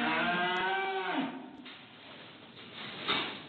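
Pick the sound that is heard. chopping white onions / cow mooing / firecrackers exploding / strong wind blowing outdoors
cow mooing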